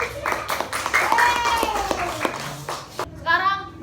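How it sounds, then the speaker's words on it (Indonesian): Children clap for group 1 in a classroom, with a patter of claps over the first few seconds under children's voices. A clearer voice speaks near the end. "Beri tepuk tangan untuk kelompok 1"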